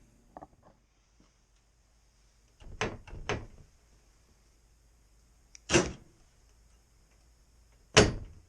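Mechanical clunks and a short whirring roll as a key-fob actuator unlocks a toolbox and its door slides open, in separate bursts: a pair of knocks near the start, then a few louder thumps and sweeps, fairly close with no talking.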